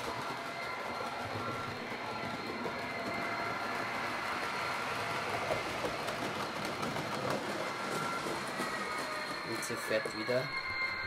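An ÖBB class 1042 electric locomotive crosses a bridge, a steady rumbling run with rhythmic clatter, continuous throughout with faint bird chirps.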